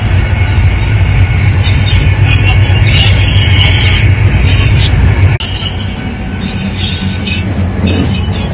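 An Avanti West Coast passenger train runs from Glasgow to London Euston, heard from inside the carriage as a loud, constant rumble of wheels and running gear with a brief dip partway through.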